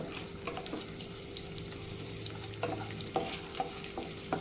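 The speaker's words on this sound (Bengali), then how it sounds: "এবার আমি এখানে দিয়ে দেব কিশমিশ দিয়ে দেব। কিশমিশ দিয়ে দিলাম। আবারও আমি কিছুক্ষণ ভালো করে ভেজে নেব।" Cashews and raisins frying in a pan for Bengali-style basanti pulao, with a steady close sizzle, light stirring scrapes and a few sharper clicks toward the end.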